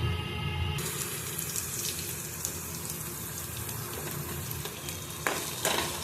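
Mustard seeds and cumin sizzle in hot oil for a Kannada chayote curry, giving a steady close crackle with faint stirring and a brief clatter near the end. Nobody speaks.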